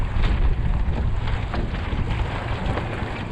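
Wind buffeting a MacGregor 26x sailboat out on the water near Tampa, a loud, low rumbling roar with gusty surges, close to the microphone and continuous, with no voices.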